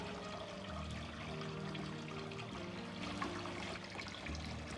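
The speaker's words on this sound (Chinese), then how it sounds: "然后再用清水稍微多冲洗2遍" Soaked dried chili peppers are rinsed under clean running water in a kitchen, giving a soft, continuous trickle and splash at low volume with no talk.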